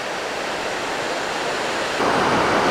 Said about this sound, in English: here's my first sighting of the falls